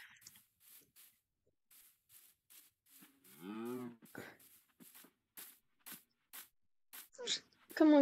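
Cow in Minecraft survival lets out one low, drawn-out moo in the middle of a stretch of close, quiet speech with short pauses.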